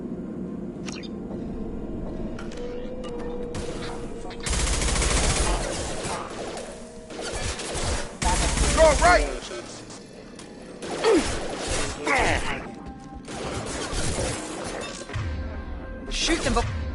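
Gunfire bursts and crashing impacts in a Mass Effect 2 combat scene, loud volleys coming in bursts between about 4 and 13 seconds, mixed with whooshes, effects and occasional voices.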